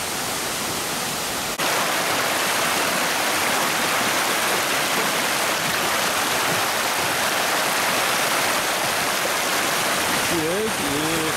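Waterfall at Caidie Falls in Ren'ai Township, Nantou County, Taiwan, a steady dense roar of falling water filling the whole clip, loud and close, with a brief shift near the end.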